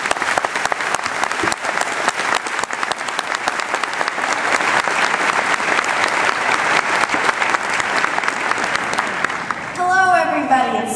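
A seated audience claps for several seconds to welcome a speaker to the stage, a dense, steady wash of close applause that tapers off at the end as a voice starts to speak.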